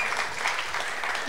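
A crowd cheers and applauds a competitor at a competitive event, a steady wash of clapping at moderate distance with no speech over it.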